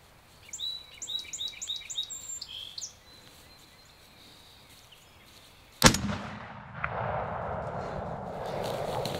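A single loud gunshot cracks out during a spring turkey hunt, with a sharp echoing tail, after a stretch of bird calls and chirps in the open woods; no one speaks.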